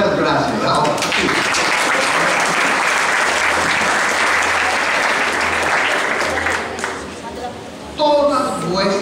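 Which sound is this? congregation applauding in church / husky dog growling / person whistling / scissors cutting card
congregation applauding in church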